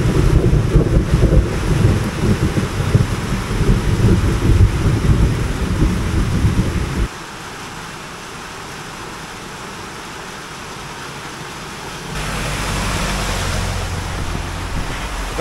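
Heavy rain in the mountains of Nueva Vizcaya, Philippines, roars loudly with a deep rumble, then drops to a softer hiss before swelling again into a strong downpour.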